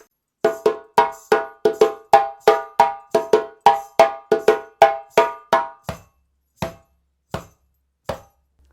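A djembe plays a solo phrase from the Kalayla rhythm, a quick run of sharp, ringing tones and slaps that thins out into a few spaced strikes, loud, close and without any voice.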